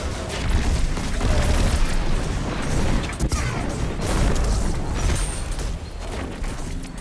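A grenade detonating in Destiny 2 during a Witch Queen legendary campaign mission, a loud broadband blast rumbling amid dense, continuous combat noise with no voices.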